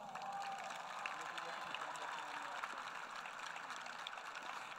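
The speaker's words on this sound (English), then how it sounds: "That deserves a round of applause." Steady applause from a crowd at the West Linn High School 2021 graduation ceremony at Providence Park, a dense, even patter that holds for several seconds without letup.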